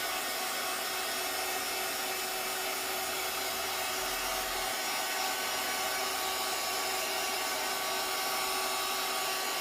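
A hair dryer blows steadily and close, drying fake leather card stock made from acrylic gel, an unbroken whooshing hum that lasts the whole time.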